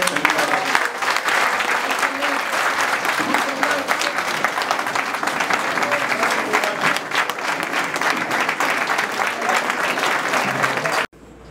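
Sustained audience applause at a 2018 RHDP pre-congress political gathering in Cavally, dense and steady for about eleven seconds before cutting off abruptly, with faint voices mixed into the crowd.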